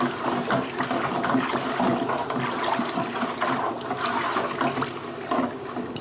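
Hot water splashes and gushes steadily for several seconds, a continuous close-up rushing pour into a rum wash, with no voices.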